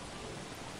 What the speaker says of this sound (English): Really, really starting to dislike the whole rain thing.